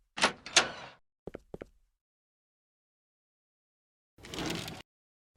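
Door in a horror video game set in the Warren house, a couple of sharp creaking opening sounds followed by small clicks, then silence and a later softer sliding rush.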